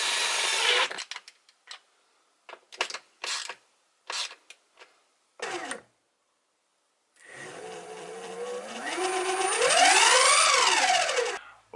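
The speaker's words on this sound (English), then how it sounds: "I normally take it apart using the drill, catch all the bolts using the drill" A power drill removing bolts fires in several short bursts, then runs in one long whirring stretch that rises and falls in pitch, with no talking.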